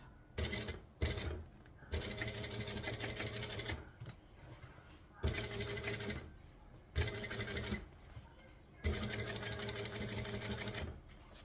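A sewing machine whirrs in several rapid, even stitching runs around fabric, each lasting one to two seconds and broken by short pauses, loud and close throughout.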